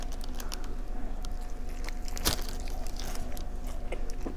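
Close bites into the crunchy skin of a cold chicken leg quarter at a Beijing street food stall, a few sharp crunches followed by soft chewing under faint background noise.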